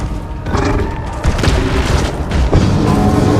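Bombarda blasting spell going off in Hogwarts Legacy, a burst of heavy booming explosions and crashing impacts stacked close together, loud and dense over a few seconds with no talking.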